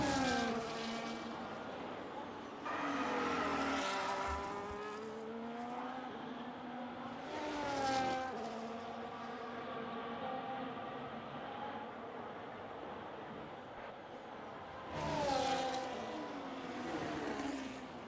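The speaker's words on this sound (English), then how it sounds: "You're able to hear the cars going." Formula 1 race car engines in a racing video game at Spa-Francorchamps whine past in repeated waves, pitch sweeping up and down as cars approach and fade, moderately loud with no talking.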